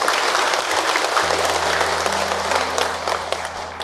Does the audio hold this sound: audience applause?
yes